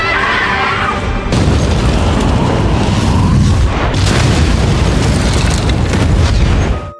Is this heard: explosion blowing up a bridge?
yes